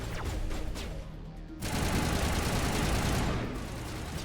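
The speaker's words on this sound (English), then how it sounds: "Look at those tungsten rounds just rip through them" Rapid tungsten-round gunfire in the video game Mass Effect Legendary Edition, a dense continuous burst of loud automatic shots that grows fuller partway through, with a rumbling low roar underneath.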